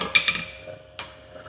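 A socket set on the end of a piston is bumped in a hydraulic cylinder repair with an aluminum gland, making two quick close metallic taps and then a third fainter knock.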